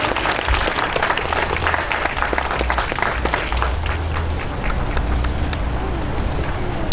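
An audience in Danbury applauds to welcome Major Bongianni at a ceremony, sustained dense clapping from a crowd that holds steady across the whole stretch.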